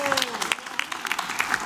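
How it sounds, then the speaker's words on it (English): An audience gives a choir and its pianist accompanist a short burst of clapping, with scattered handclaps fading as a voice speaks over it. "Let's give all of you a nice hand of applause."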